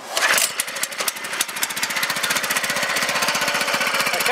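A small 6.5 horsepower engine on a junk tractor starting up: a brief cranking burst, then a rapid, loud, evenly pulsing putter as it settles into a steady run close by.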